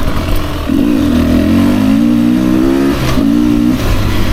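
A 2024 Beta 300RR Racing Edition motorcycle ridden fast after warming up, its two-stroke engine loud and close, revving and climbing in pitch, briefly dropping off, then pulling hard again.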